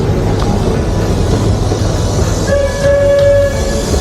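A passenger train near the North Korean border, running steadily and loud and close with a rumbling roll, then a sustained whistle-like tone joining partway through.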